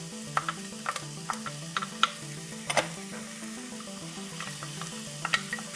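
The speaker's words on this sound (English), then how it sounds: "Now we are sweating this with a pinch of salt." Carrots, onions and celery sweat in olive oil with a pinch of salt in a pot, giving a soft, steady sizzle broken by occasional sharp scrapes and clinks of stirring, with a low background hum and no talking.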